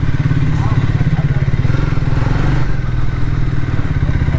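A motorcycle engine idles close by with a steady, rapid low thumping that holds evenly from start to finish.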